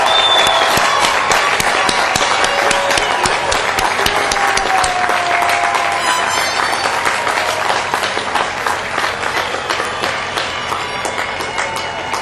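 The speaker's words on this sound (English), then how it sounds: "ask them to stand for a well-deserved round of applause from the class of 2005" Sustained applause from the graduating class of 2005 at a college commencement, a loud, dense crowd clapping that fills the space and only slowly eases toward the end.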